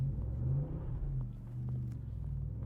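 A 2020 Ford Super Duty pickup truck with a 7.3-litre engine and aftermarket performance exhaust roars with a deep, steady low rumble as it accelerates hard, loud and close, with no talking.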